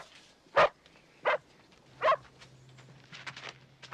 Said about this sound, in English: What a great dog you have.